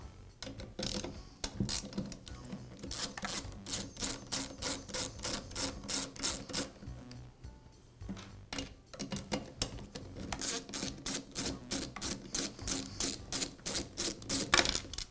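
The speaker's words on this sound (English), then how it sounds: "Now remove the two nuts that secure the air filter base to the carburetor mounting studs." A wrench or ratchet clicks rapidly while nuts come off the air filter base of a Poulan chainsaw, bursts of close, light metallic ticking with a short pause midway.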